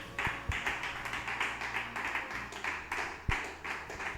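A church congregation claps hands in praise, a dense run of uneven claps from many people filling the room at a steady, moderate level with no talk over it.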